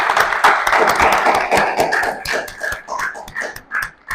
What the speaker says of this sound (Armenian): ծափարենք Սելենային